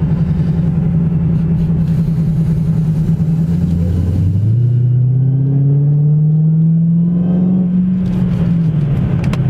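A Dodge Hellcat drives slowly through a business park, its deep engine rumbling loudly up close, dropping low then swelling as it pulls away again.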